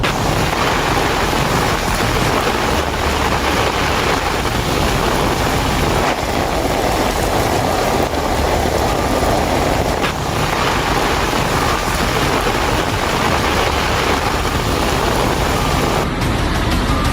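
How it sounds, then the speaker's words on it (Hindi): Heavy monsoon rain pours in a dense, continuous roar, loud and unbroken throughout, with a windy, rushing texture and no voices. "बरसात ऐसी हो रही धुआंधार, मानो पानी ने शुरू कर दी बाढ़।"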